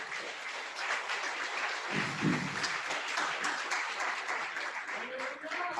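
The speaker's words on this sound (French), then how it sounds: "Applaudissez encore plus fort." A church congregation at a mission service in Paris applauds with a sustained, moderate wash of clapping. A voice talks over the clapping for most of the clip.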